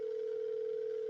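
A steady telephone dial tone hums alone on a speakerphone before a call goes through, one continuous unbroken pitch, quiet and even throughout.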